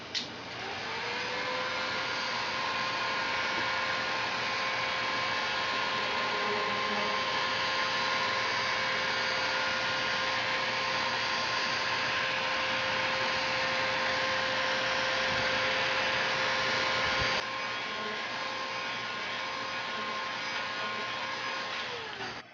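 A heat gun heating PVC pipe for a crossbow blows with a loud, steady whooshing hiss and a whining fan tone that holds for nearly twenty seconds, then dips slightly toward the end.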